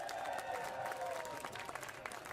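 Crowd at the Nitro/St. Albans bridge grand opening ceremony cheering and applauding at steady volume, a dense wash of claps and shouts with voices rising out of the mass throughout.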